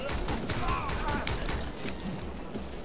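Enemy gunfire in the video game Speed Limit, a rapid, dense stream of shots running steadily through the whole stretch, fairly loud and close, with other game noise and a voice mixed underneath.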